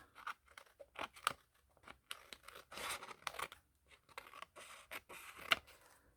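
Scissors snipping paper while decorating a spring journal page, a series of short crisp cuts and rustles in irregular bursts, close and fairly quiet, with no talking.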